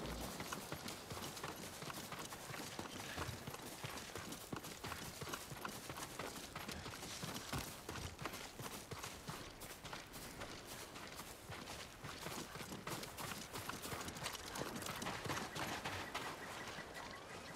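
Horse hooves clip-clop steadily in Ghost of Tsushima, a continuous walking rhythm with faint creaks and gear rattle beneath, fairly close and unbroken by talk.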